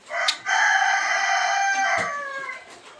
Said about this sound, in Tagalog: Asil Boston Roundhead natin na black side po